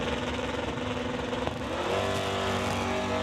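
A 1968 Dodge Dart drag racing car accelerates down a strip at an NHRA Summit ET Series race. Its engine roars steadily at a moderate distance, and the pitch rises and holds near the end.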